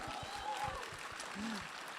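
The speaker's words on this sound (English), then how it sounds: "Yeah, we can clap for them." Audience at the Devcon SEA main stage claps for the Ethereum Protocol Fellowship, a light burst of applause with scattered claps over a low room rumble and some voices.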